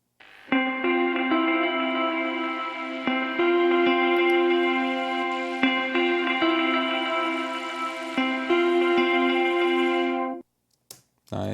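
Clean electric guitar with a little reverb in a melodic bass EDM production, a steady chord pattern with repeated plucked attacks ringing for ten seconds before cutting off.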